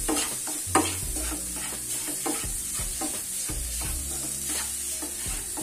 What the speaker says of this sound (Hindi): और अब इसको हम अच्छे से मिक्स कर देंगे।